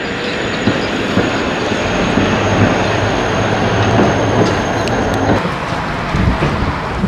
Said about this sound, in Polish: Można powiedzieć, że teraz te tramwaje jadą na wyłączonym odcinku sieci.